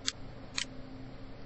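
Two crisp, sharp computer mouse clicks about half a second apart, close and isolated over a quiet room background.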